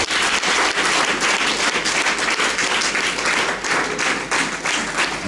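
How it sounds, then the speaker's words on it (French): A church congregation applauds loudly and continuously, dense clapping filling the room for several seconds, with faint cheering voices mixed in. "On acclame plus."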